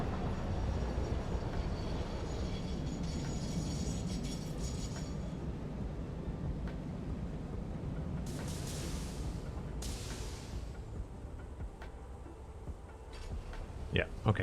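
In the video game Satisfactory, a train loads at a coal station: a continuous low mechanical rumble runs throughout, with brief hissing bursts partway through and a few light clanks near the end.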